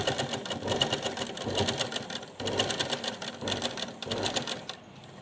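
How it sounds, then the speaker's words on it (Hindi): Sewing machine running steadily while stitching a small doll's dress for a Laddu Gopal figure, a fast even mechanical whir with short pauses, close by and alone. "इस तरह से हम एक साइड से सिलाई लगाना शुरू करेंगे।"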